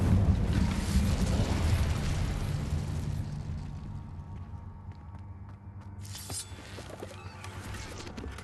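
A loud fire spell blast in Hogwarts Legacy bursts with a roaring, rumbling whoosh that slowly fades into quieter crackles and scattered pops over several seconds, no voices.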